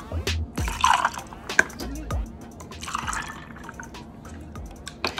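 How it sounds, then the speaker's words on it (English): Vodka poured into a small measuring cup for a lychee martini, a close trickling and dripping of liquid in short bursts with brief pauses, with some faint background noise. "So I have to fill this little measuring cup up 3 times"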